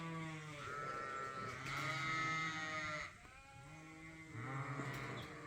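Sheep and young lambs in a pen on a farm, several overlapping bleats close by, loud calls rising and falling with brief pauses between them.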